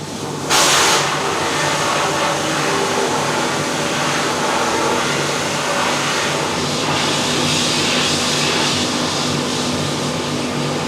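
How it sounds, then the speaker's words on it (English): A car wheel being shot blasted to strip every last bit of old paint and powder coat, giving a loud, continuous hissing roar after a sharp start, steady to the end. "the entire wheel is being shot blasted just to make sure every last little bit of paint, powder coat, whatever is still left on the wheel"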